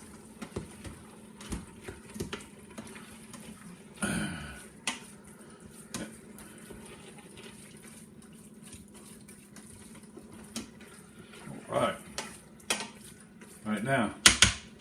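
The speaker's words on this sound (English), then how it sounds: "And we'll stir that into the hamburger" Hamburger meat is stirred as it browns in an Instant Pot for chili, with irregular utensil scrapes and clinks against the pot, occasional sharp knocks and faint sizzling, close and intermittent, with brief spoken remarks in between.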